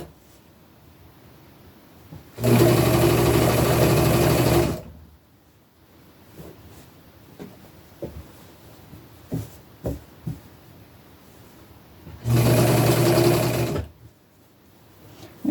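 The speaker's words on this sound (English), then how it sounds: "So I'm going to be using sort of a medium length straight stitch, and I will be stretching it between these points where I have pinned it." Domestic sewing machine running a medium-length straight stitch on stretchy upcycled clothing fabric, heard in two loud, steady whirring bursts of about two seconds each, separated by quiet handling noises.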